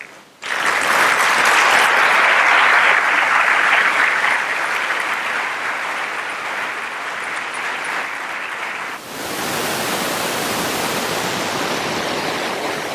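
Large conference audience in Guatemala breaks into loud, dense applause to welcome a speaker, swelling sharply at the start, holding strong, then shifting to a steadier, slightly softer wash of clapping that continues to the end.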